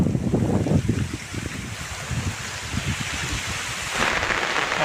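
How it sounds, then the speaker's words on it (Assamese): Rain falling steadily in a garden or wooded backyard, a dense, close hiss with irregular patters and low rumbles, continuous throughout, with no talking. "এতিয়া আমি এটা জংঘলবাৰীত এই গাইছ বৰষুণ পৰি আছে"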